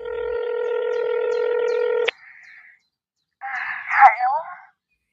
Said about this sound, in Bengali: কিছু ভাবতে না পেরে সন্তু ফোন করলো অর্চনাকে।